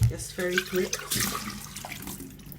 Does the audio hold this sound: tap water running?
yes